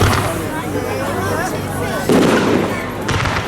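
Fireworks explode at a public display in Colwyn Bay on a November night, loud booms and crackling bursts over a dense crowd babble, with a heavy blast near the middle and another shortly after.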